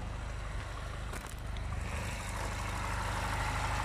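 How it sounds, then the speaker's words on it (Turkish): A Tofaş Şahin car engine runs steadily at idle, a continuous low rumble close by with no break and no voices. "Zaten araba motor sesi çok güzel."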